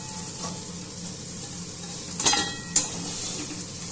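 Soya chunks frying in hot oil give a steady low sizzle, with two brief clinks of a utensil against the pan near the end as the chunks are lifted out.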